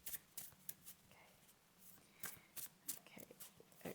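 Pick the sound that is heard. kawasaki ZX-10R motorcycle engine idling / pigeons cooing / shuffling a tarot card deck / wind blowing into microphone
shuffling a tarot card deck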